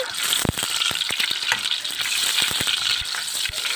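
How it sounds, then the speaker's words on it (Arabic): Frozen garlic fries in a pan of ghee or butter for Egyptian molokhia, giving a dense, continuous close sizzle cut by quick clicking stirs and scrapes throughout. "هنحضر طاسة ونحط معلقة سمنة بلدي او زبدة ومعلقتين توم"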